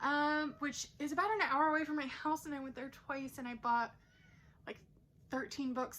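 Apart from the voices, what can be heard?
cat meowing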